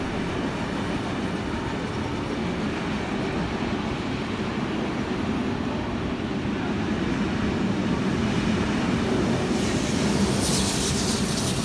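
A heritage train led by steam locomotive 3526 rumbles past steadily in New South Wales, a loud continuous roar of wheels and carriages on the rails with no voices over it.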